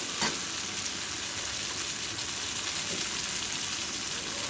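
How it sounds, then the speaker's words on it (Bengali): Eggplant sizzles as it fries in a pan, a continuous moderate crackle with a brief stir near the start, no voices. "বেশ যত্ন সহকারে এটা ভাজতে হবে"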